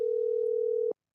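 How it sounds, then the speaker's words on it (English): A telephone dial tone heard while placing a call: one steady, loud, continuous tone that holds for nearly a second and then cuts off abruptly, leaving silence. "You hear that? That's the phone."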